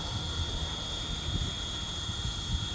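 MD-500 size 500 radio-controlled helicopter in flight just before landing, steady whirring rotor drone with a high constant whine, moderately distant and even throughout, no talking.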